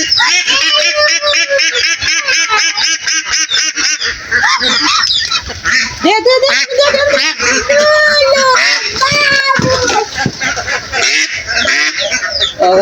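A crowd of ducks at a duck farm quacks and honks loudly and constantly, their raspy calls overlapping close by, with a voice speaking beneath them.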